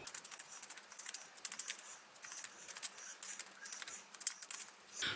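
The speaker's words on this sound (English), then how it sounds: "let's give them a shuffle" A deck of playing cards is shuffled close to the microphone, making quiet, rapid papery clicks and riffling flutters in uneven bursts, with no talking.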